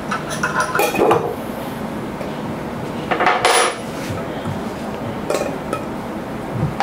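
A lug capping machine works a cap onto a bottle, giving clattering metallic clinks and knocks in a couple of louder bursts, close and fairly loud, with a brief voice in the background.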